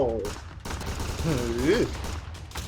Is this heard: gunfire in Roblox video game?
yes